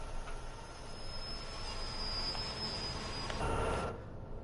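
A freight train in Train Sim World 2 on Sherman Hill rolls steadily along with a low rumble and a thin metallic squeal, swelling into a brief louder rush near the end.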